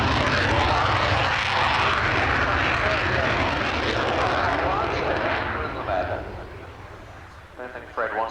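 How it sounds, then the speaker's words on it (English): Royal Air Force aerobatic team jets roar as they take off at the 1989 RAF Scampton airshow, a loud sustained broadband engine rush sweeping past, fading slightly near the end amid crowd and commentary voices. "The team getting airborne now, from your left to your right"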